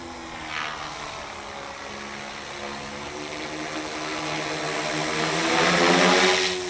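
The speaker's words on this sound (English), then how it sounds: "So if we look at the heli hovering," A flybarless RC helicopter hovering, its rotor and motor whine sustained and steady, growing slightly louder toward the end, with no voices.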